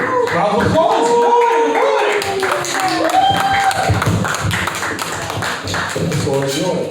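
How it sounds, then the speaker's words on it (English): An audience at a live performance showcase claps in a loose, uneven round of applause, mixed with chatter and voices throughout. "Round of applause."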